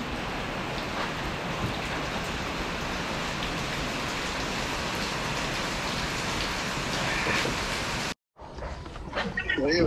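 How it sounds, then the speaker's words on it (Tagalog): Heavy typhoon rain pours in a dense, steady roar, loud and close throughout, then cuts out abruptly near the end before the downpour resumes. "Lakas ng ulan"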